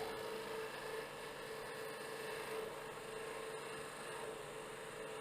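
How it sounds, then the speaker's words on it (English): A spindle gouge rolls a small bead on a wood finial turning on the lathe, making a steady, close scraping rasp that holds continuously with no talk. "I'm going to roll a little bead here into that detail"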